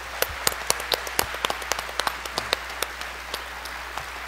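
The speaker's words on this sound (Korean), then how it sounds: "다 같이 박수로 한번 더." Sparse, distinct hand claps ring out at a New Year's Eve church worship service, irregular individual smacks from a modest crowd, close and crisp over a quiet room.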